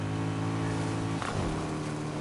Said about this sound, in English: that was a noisy engine.